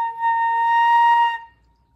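A single flute note from a march, hit with a sharp attack, eased back, then swelling louder before cutting off, clear and close with nothing else playing.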